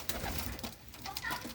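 Pigeons coo softly in a steady, murmuring stream at feeding time, close by and fairly quiet.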